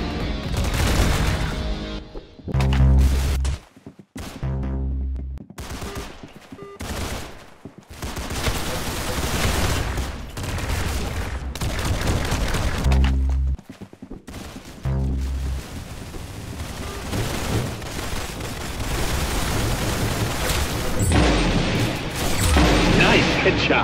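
Gunfire rattles through a Roblox Arsenal match in quick bursts of shots and sharp booming hits that come loud and close, while a player's excited voice speaks over the action.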